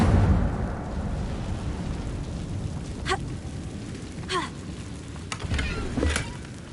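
Incendio fire spell effects in the Hogwarts Legacy video game: several short crackling bursts of fire sound over a steady rumbling, rain-like background hiss.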